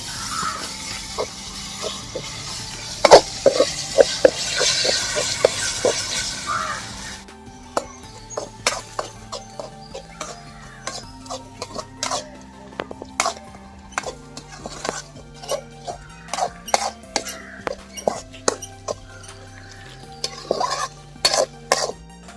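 Ginger-garlic paste is stirred in a cooking pan for prawn biryani, a spoon scraping and tapping against the metal in irregular bursts over a faint background sizzle, close and clear with no talking.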